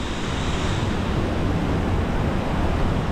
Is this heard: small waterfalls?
yes